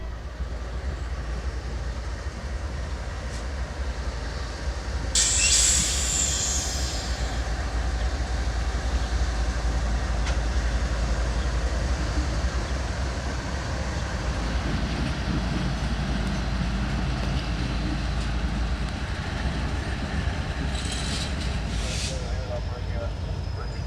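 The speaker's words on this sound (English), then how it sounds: "With the train fully assembled, the three GEs reverse towards it" Three GE diesel locomotives reverse toward an assembled freight train in a rail yard, a low steady engine rumble with faint metallic squeals and clanks rising briefly, heard at a distance for over twenty seconds.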